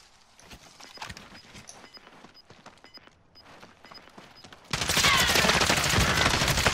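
Automatic gunfire in a Warzone firefight, starting as scattered sharp shots and bursts, then a sudden loud, sustained barrage of rapid fire taking over for the last two seconds, with no talk.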